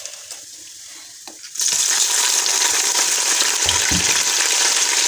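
Garlic and ginger paste for a white beans and chicken korma, along with whole spices, hits hot oil in a pan, and a loud, steady sizzle erupts abruptly and holds, following a few faint clinks.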